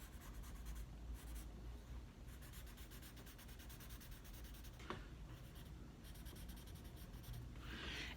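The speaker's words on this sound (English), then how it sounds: "let me go ahead and blend that." Charcoal rubbed and blended across a value drawing on paper, a steady soft scratchy rubbing that continues quietly and close throughout, with no talking.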